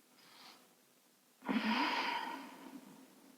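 During a lying yoga exercise, a slow deep belly breath is taken close to the microphone: a faint soft inhale, a pause, then a long audible exhale that fades out.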